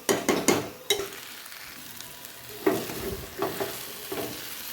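Soaked rice is dry-roasted and stirred in a pan for vegetable palav, giving soft bursts of scraping and light sizzle in irregular strokes, close by and fairly quiet.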